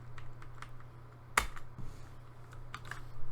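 Sparse keystrokes on a computer keyboard while entering a font name into CSS code, a few light clicks and one sharper tap standing out over a steady low hum, with no talking.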